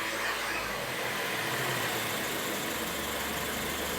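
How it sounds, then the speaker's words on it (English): Steady low idle of a 2020 Land Rover Evoque engine, a constant faint hum and vibration with no changes in pace and no voices. "Now it's idling properly again."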